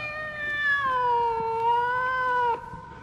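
A cat meows in one long, drawn-out call that wavers in pitch, clear and fairly close, with no voices over it.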